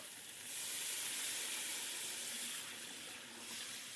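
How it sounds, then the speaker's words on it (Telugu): Rice water poured into a hot pot of oil, fried onions and ginger for chicken biryani: a soft, steady hiss and sizzle that swells and then settles, faint and close, with no voices. "వాటర్ పోస్తున్నా."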